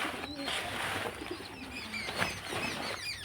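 Several pigeons in a home loft make soft throaty coos and short chirps at close range, with brief rustles and wing flutters among them.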